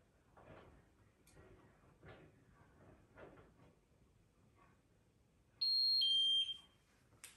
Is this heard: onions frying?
no